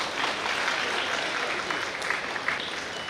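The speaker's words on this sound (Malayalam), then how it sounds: "നല്ലൊരു കയ്യടി കൊടുക്കാം പ്ലീസ്" Audience clapping at the inauguration of the renovated Tirur railway station, a dense, even round of applause from a crowd, moderately near and sustained throughout.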